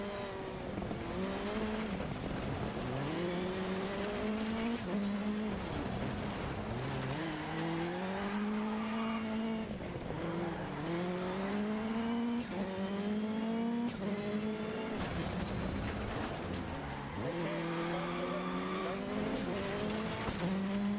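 A rally supercar in the video game Dirt Rally 2.0 roars through repeated hard acceleration runs, its engine revving up and shifting over and over while the tires squeal and skid, loud and continuous throughout.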